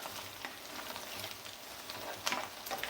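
Pigtail and onions caramelizing together in a pan for a seafood and pig tail stew, giving a steady low sizzle and crackle with a few sharper pops, fairly close and even throughout.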